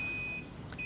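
Ship navigation equipment goes into alarm: a faint, steady high-pitched electronic beep that cuts out briefly and then resumes, over quiet background hum.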